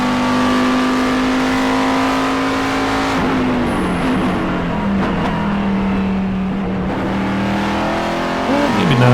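Race car engine heard from inside the cockpit at Watkins Glen, a loud continuous drone that drops and rises through gear changes and braking, with a sharp rev surge near the end.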